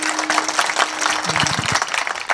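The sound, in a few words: audience clapping hands at a kirtan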